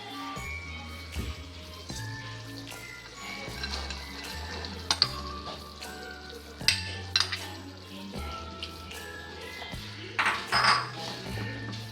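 Chickpea curry being stirred in a pan, made to go with puttu and pappadam, with scraping utensil strokes, light clinks and a low sizzle repeating through the clip, plus a few sharper pan knocks.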